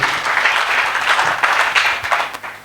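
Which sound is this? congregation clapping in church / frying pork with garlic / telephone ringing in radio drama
congregation clapping in church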